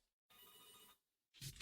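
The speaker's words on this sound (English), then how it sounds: "The phone rings off the freaking hook." A telephone rings in two short bursts separated by a pause, sounding faint and somewhat distant, with no talking over it.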